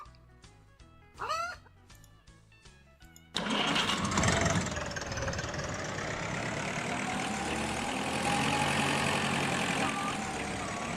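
Small Massey tractor engine in the farming video game Agricultural Simulator 2013 starting up abruptly after brief clucking from chickens, then running at a steady loud drone.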